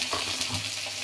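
Chopped dried fish seasoned with turmeric, salt and garlic paste fries in a pan, giving a brief, dense, close sizzle with no voices.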